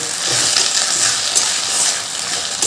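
Jute leaves crackle and sizzle steadily in a pan with dried chilli, a dense bright hiss broken by soft scraping strokes as the greens are stirred, with no talking.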